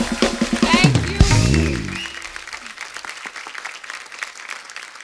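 Studio audience applause greeting Deepika Padukone on The Kapil Sharma Show, a loud burst at the start that thins into steadier clapping, with a voice and music briefly over the opening.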